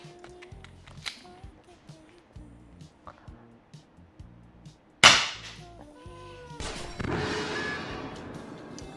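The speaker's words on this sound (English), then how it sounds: "So that sounds like this gun is firing." Scattered clicks and thumps lead to a sudden sharp gunshot sound effect played for a gun camera prop, followed by a ringing tail and a second noisy burst, with faint room sounds between.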